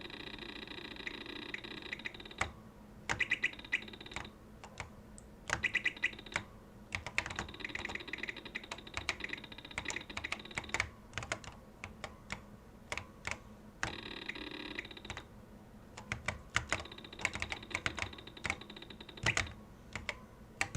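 Keys clatter on an Apple IIe computer keyboard in rapid, uneven bursts of close clicks with short pauses between runs, alongside a faint steady electronic tone from the machine.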